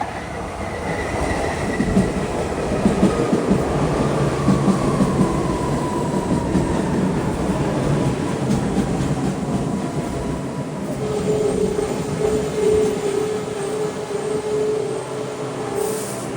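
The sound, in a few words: PATCO Lindenwold-bound train running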